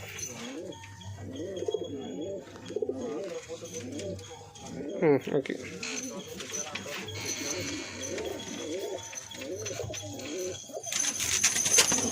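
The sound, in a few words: pigeons cooing in breeding loft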